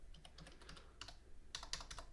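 Typing on a computer keyboard, a quick irregular run of key clicks with a brief pause midway, fairly close and moderately quiet over low background hum.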